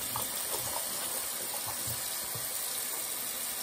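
Steady hiss of tap water running into a sink while a face mask is rinsed off during a nighttime skincare routine, continuous and close, with faint splashes and no voices.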